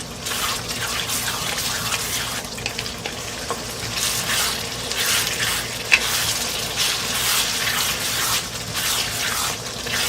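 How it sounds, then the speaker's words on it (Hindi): Minced meat for Pakistani khara masala keema fries in a pan, giving a steady sizzle broken by repeated scraping stirs of a spoon, with no talking. "इस कीमा को भूनते हुए मुझे 5 से 6 मिनट हो गए हैं।"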